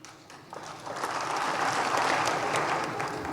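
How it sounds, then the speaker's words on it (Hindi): A crowd at a political speech in India claps, the applause swelling from scattered hands into steady, moderately close clapping that holds through the clip before a sharp sound at the very end. "ताली, हाथ खोलो"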